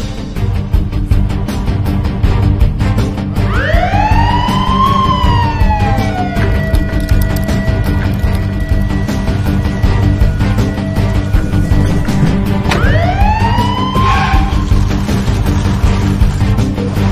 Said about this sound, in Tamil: யாராவது ஆம்புலன்ஸ்